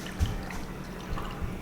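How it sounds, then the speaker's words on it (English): Water is poured into a jar of beets for fermenting, giving a few faint close drips and trickles with soft splashes, quiet and brief, with no talk. "I'm gonna add the water a cup at a time"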